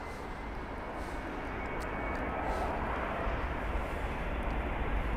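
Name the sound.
Airbus A330 airliner approaching London Heathrow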